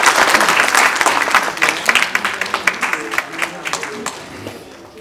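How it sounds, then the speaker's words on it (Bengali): An audience at a cultural and award-giving ceremony claps loudly at first, then the clapping thins into scattered claps and fades. "আমরা একটু জোরে করতালি দেই না"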